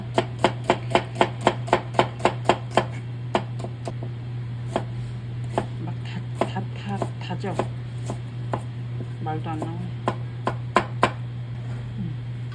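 Knife mincing mushrooms and vegetables on a board for kimchi dumpling filling, a fast, even run of sharp chops close up, then scattered chops under a steady hum and a voice talking.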